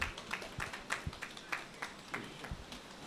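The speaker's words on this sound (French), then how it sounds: "Vos applaudissements s'il vous plaît." A small audience at a tribute ceremony claps in a thin, scattered, steady rhythm of distinct hand claps, moderately close, with no talking.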